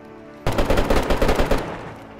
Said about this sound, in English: I heard them shots, though.